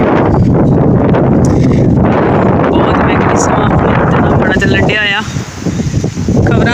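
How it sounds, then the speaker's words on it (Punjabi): Wind blows hard outdoors, buffeting the microphone with a loud, continuous roar for the whole stretch, and a voice briefly surfaces near the end. "ਵੈਸੇ ਹਵਾ ਚੱਲਣ ਲੱਗ ਪਈ ਆ"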